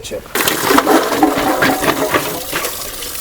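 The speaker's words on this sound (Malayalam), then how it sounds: "നമുക്ക് മുരങ്ങക്കായി കഴുകി ഒരു പ്രാവശ്യം കഴുകി രണ്ട് മൂന്ന് പ്രാവശ്യം കൂടെ കഴുകാം" Drumsticks (moringa pods) being washed by hand in a vessel of water, with loud continuous sloshing and splashing heard up close after a brief quieter start.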